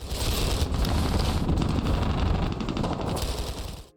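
Rapid automatic gunfire from the mobile shooter video game Carnage Wars, a dense loud burst of shots rattling almost continuously for about four seconds before cutting off.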